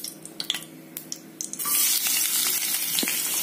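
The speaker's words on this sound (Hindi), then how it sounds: "अब इसमें हम डालेंगे ऑयल और जिंजर गार्लिक।" Ginger and garlic hit hot oil in a kadhai and break into a loud, steady sizzle, preceded by scattered clinks and taps of the pan before the frying starts.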